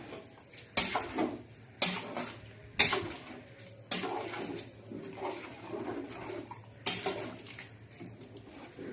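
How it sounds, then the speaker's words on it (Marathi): Rice being stirred for chicken pulao in a metal pot, with repeated scraping clanks and rustling grains in uneven strokes, close and fairly loud, over a low steady hum. "आता आपण टाकणार आहोत छान असा बिराणी भात असा हलवून घ्यायचा"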